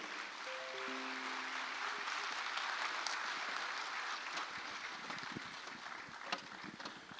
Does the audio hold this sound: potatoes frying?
no